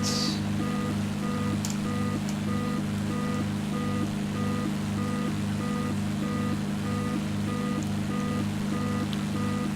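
Repetitive electronic cockpit warning beeps pulse steadily over a loud, constant engine drone in a Bonanza V35 flight simulator, with no speech.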